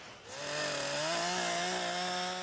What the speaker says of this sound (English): What we're hearing now is the desperation of the chainsaw.